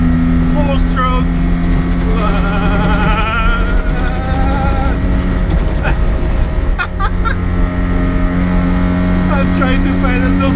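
A 1980 Mitsubishi Minica's 550cc four-stroke engine runs steadily with a loud, continuous drone and low hum throughout, while someone talks over it.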